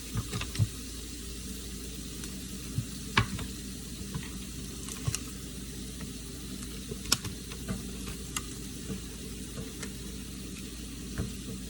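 Mild Italian sausage fries in a pan on medium heat with a steady, close sizzle and scattered crackles and pops, with occasional scraping as the meat is stirred and broken up.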